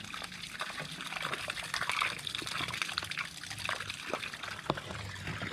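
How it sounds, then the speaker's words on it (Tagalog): Water bubbles and gurgles steadily close by, a continuous churning trickle with small splashes throughout. "Bulwak-bulwak ng tubig."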